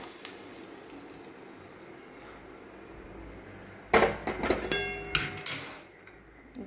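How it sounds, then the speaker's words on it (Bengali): Hot oil with red chilli powder is poured over a cucumber mixture: after a quiet stretch, a sudden sizzling hiss bursts out, with a few clinks of metal utensils and dishes as the sizzle fades. "এখন সেই তেল আর এটা এই শশার মিশ্রণটার মধ্যে ঢেলে দেব।"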